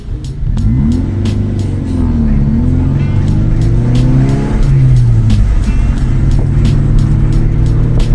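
A Toyota MR2 Spyder with a full catless exhaust drives past up close, its loud raspy engine note rising and falling through gear changes, with rhythmic clicking ticks over the steady roar.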